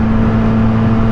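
Yamaha FZ09 motorcycle engine holding a steady, loud, close-up hum during a wheelie attempt, a sustained tone with no talk over it.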